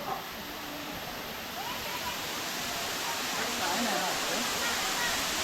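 Ghonsari waterfall in Sindhudurg, flowing at a reduced volume after dry days, produces a constant broadband roar of falling water heard from a viewing gallery, steady and fairly loud throughout.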